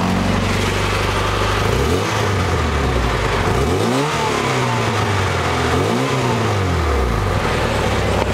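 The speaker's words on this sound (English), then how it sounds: "The exhaust is very nice and deep." A 1990 Honda Civic Wagon's exhaust rumbles deep and loud, with several rising revs spaced a couple of seconds apart before settling back to idle.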